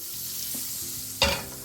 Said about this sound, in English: Wait till the oil and butter is sizzling away.